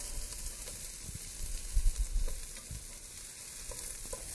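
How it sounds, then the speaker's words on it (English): Diced onion and sweet potatoes sizzle steadily in olive oil in a pan, with soft scraping and clattering as they are stirred, close and moderately loud. "we'll add it to our sweet potatoes and our olive oil. And I'll stir to get it going"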